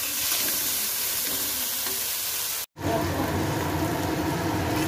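Potatoes and vegetables frying in a pan give a continuous hissing sizzle that cuts out briefly midway, then returns louder and brighter.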